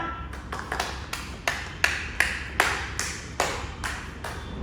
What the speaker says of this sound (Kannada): ಚಪ್ಪಾಳೆ ಚಪ್ಪಾಳೆ.